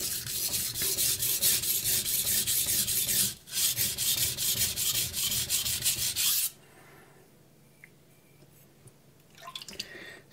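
A knife edge scrapes back and forth on a soft Chinese whetstone in quick rhythmic strokes, close and crisp, pausing briefly, then stopping abruptly and leaving near silence with a faint touch near the end.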